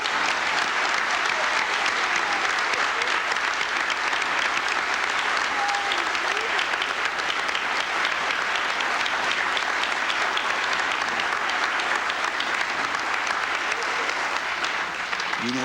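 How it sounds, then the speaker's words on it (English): A large audience at a White House Broadway salute performance gives sustained, dense applause for Pearl Bailey's birthday, a loud, unbroken roar of clapping filling the hall from start to finish. "I think we owe her a round of applause"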